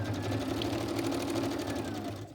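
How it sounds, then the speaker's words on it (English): A sewing machine stitches through fabric coated in wet glue, its needle chattering in a steady, fast rhythm at close range for a couple of seconds with no talk over it. "I am stitching right through my wet glue"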